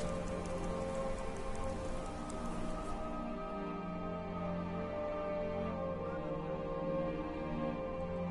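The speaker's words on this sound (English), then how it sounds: "This rain will stop eventually." Steady rain pours in the Skyrim video game, a dense, continuous hiss of falling water on surfaces that holds evenly throughout with no voices.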